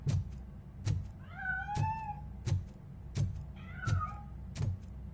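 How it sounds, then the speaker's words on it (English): A cat meows inside the video game RoboCop: Rogue City, with two drawn-out, rising calls standing out over a steady run of regular thuds roughly every 0.7 seconds. The meows are fairly faint and close, and nobody speaks. "The cat is fine."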